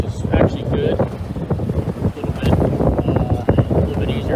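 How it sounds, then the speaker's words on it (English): Strong wind of about 17 to 20 knots buffets a sailboat at sea in quartering waves, roaring and gusting close to the microphone while someone talks. "the wind's still blowing about 17, sometimes 20"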